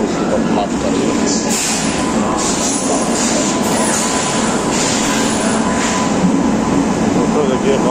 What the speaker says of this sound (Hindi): दोस्तों, देखिए बहुत ट्रेन आ चुकी है।